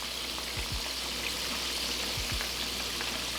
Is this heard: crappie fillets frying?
yes